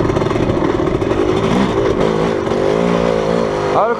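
A motorcycle with an automatic clutch climbs a short rise in second gear during a ride in Arizona, its engine droning steadily and loudly close by, with pitch swells as the throttle varies and a rising rev near the end.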